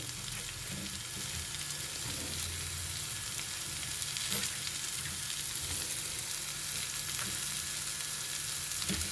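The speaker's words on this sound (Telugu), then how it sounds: "ఇప్పుడు ముల్లంగి ముక్కలు వేసేసుకుందాం." Radish pieces fry softly in a pan with onions, a faint, even sizzle with an occasional stirring scrape and no talking.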